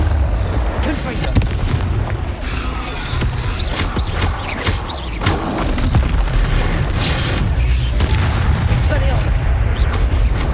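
Confringo explosive spell blasts in the video game Hogwarts Legacy, a series of booming bursts over a continuous dense game soundscape, with a voice speaking through it.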